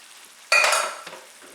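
Canned cannellini beans tumble into a hot skillet of sizzling salmon, a sudden loud burst of frying hiss and clatter that fades over a second, with a smaller splash of sizzle after.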